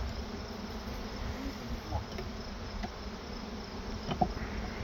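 A soft, continuous honey bee buzz hums in the background during a honey harvest, steady and faint, with a few brief louder flickers as individual bees pass nearby.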